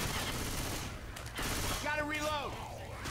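Bot gunfire in the video game Left 4 Dead 2, a dense rapid stream of shots under busy game noise, mixed with other in-game sounds.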